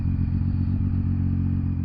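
Zontes Z703F triple-cylinder adventure tourer motorcycle making a quick U-turn, its engine a steady low close-up rumble with slight rhythmic pulsing and no talk.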